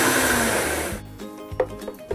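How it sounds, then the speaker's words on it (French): A blender whirs loudly as it purées cooked carrots with salt, pepper and a knob of butter, then cuts off after about a second, leaving a few close clatters and knocks of the jar. "une noix de beurre, puis on part mixer"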